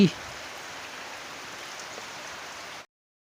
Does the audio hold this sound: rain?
yes